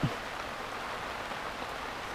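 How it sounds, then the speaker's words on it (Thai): Steady rain falls on a riverbank during a fishing session on the Nam Phong river, a soft even hiss with a brief thump at the start and no talking. "ฝนมาอีกแล้วครับ"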